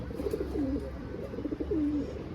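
A single pigeon coos close by in two rising-and-falling phrases, soft throaty calls over a quiet background with no talking.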